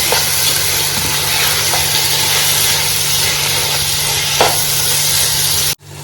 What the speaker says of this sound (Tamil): இது எல்லாத்தையும் நல்லா ஒரு கிளறு வதக்கி விட்டுலாம்